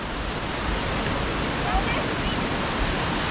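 The Hogenakkal waterfall rushes as a loud, steady roar of falling water heard close by, with a constant broadband wash and no pauses.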